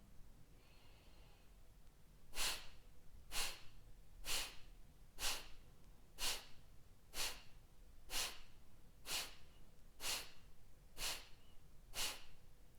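Slow, steady breaths in a breathing exercise, about a dozen evenly spaced airy pulses roughly one second apart, quiet and close with no speech.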